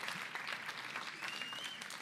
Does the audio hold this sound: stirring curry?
no